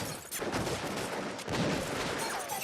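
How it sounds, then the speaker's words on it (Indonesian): Dense, overlapping bursts of gunfire crackle continuously, loud and close, with a few sharper volleys standing out from the roar. "Para tentara pun mulai kembali menembak."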